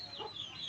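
A chicken weakened by summer heat gives soft, faint clucking in a brief burst, with no talk.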